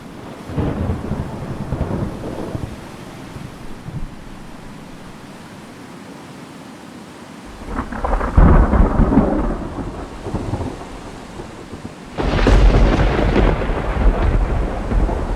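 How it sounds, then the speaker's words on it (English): Thunderstorm ambience in a Minecraft tornado mod: steady hissing rain with two loud rolling thunder rumbles, one around the middle and a heavier one near the end, with no talk. "I'll take a moment so you all can enjoy the ambience that these storms have"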